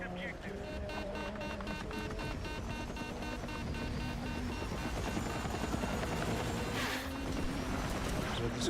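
A helicopter in a video game hums and thrums steadily throughout, a continuous rotor drone at moderate level with a rhythmic chop, while a voice talks over it.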